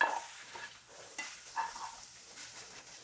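Mushrooms tossed with garlic powder and soy sauce in a frying pan, a gentle sizzle under soft, intermittent stirring scrapes, close but fairly quiet.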